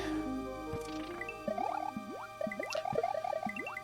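Underwater ambience music from the Super Mario World 2 video game, with rising, bubbly synth notes repeating in a steady rhythm over a soft sustained backdrop, moderately loud and without speech.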